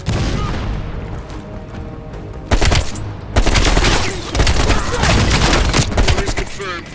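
Heavy machine gun fire rattles in Call of Duty Black Ops Cold War, with rapid bursts and booming impacts that swell louder partway through amid a dense battle soundscape.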